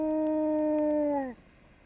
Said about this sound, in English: I got him to howl for her